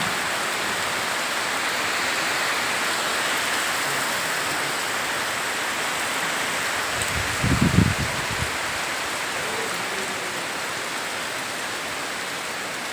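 Steady, dense hiss of heavy rain from a low-pressure system falls continuously in a village in South 24 Parganas, West Bengal, with a brief low rumble partway through.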